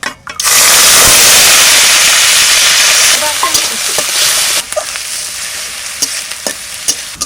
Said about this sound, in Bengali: তাই ফোড়নে দিচ্ছি গরম মশলা